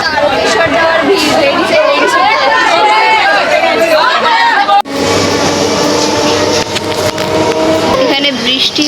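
A dense crowd of people travelling to Tarakeswar keeps up a loud, steady babble of overlapping voices, with a brief dip midway, while vehicle rumble sits underneath throughout.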